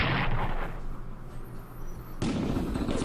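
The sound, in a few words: artillery fire in Strategic Command video game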